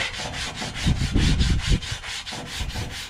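Steel wool rubbing pitted rust off a vehicle's chrome trim, making rhythmic back-and-forth scrubbing strokes, close and fairly loud, with no speech over the repeated rasping.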